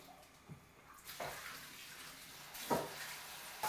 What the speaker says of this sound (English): I'm going to put water in this.